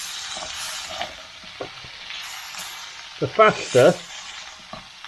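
Lambs' liver frying in a pan gives a steady close sizzle with bursts of louder crackle midway, while a voice talks briefly over it.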